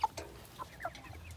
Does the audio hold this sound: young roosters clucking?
yes